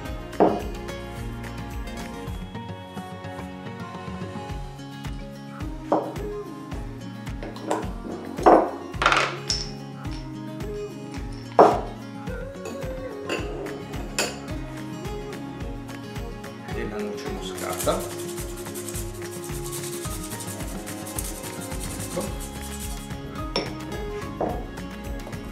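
Cake batter for a rustic milk cake is stirred in a bowl with spices such as cinnamon and vanilla, giving repeated clinks and scrapes of a utensil against the bowl, some louder knocks, and a person talking over it.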